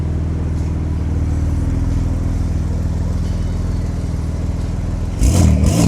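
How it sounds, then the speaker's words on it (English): A Porsche 992 Turbo S fitted with an aftermarket exhaust idles with a steady, deep mechanical rumble, then roars loudly as it revs up near the end. "992 Turbo S's with exhausts sound unreal."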